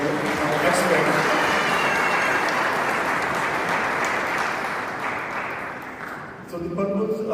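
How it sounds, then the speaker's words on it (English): Audience applause at the 4th Pakistan Remittance Summit 2024 in Rome, Italy, a dense sustained clapping from a large crowd that swells, thins slightly near the end, then picks up again. "request for clap for our experts."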